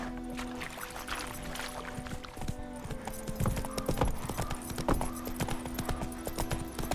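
Hoofbeats of Roach the horse galloping in The Witcher 3 pound steadily and close, a dense clip-clop rhythm over faint game ambience, with no talking.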